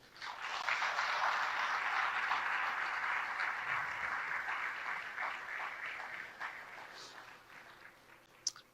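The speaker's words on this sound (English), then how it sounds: "Let's give another big applause for them." A large audience at a formal event in Bangladesh breaks into sustained applause, dense clapping that holds steady for several seconds and then slowly thins out, with no speech over it.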